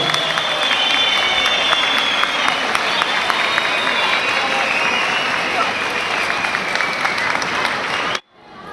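An audience at a village solidarity night in Göldalı, Arpaçay, Kars claps steadily as a guest is welcomed onto the stage, continuous dense applause that cuts off abruptly near the end.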